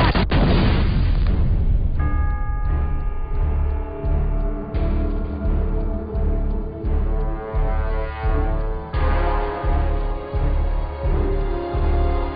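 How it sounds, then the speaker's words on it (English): Trailer for the sci-fi comedy film Iron Sky, with UFOs opening fire on New York: loud, heavy booms and bursts pounding in a steady rhythm over a dense orchestral score, with no talking. "It's opening fire!"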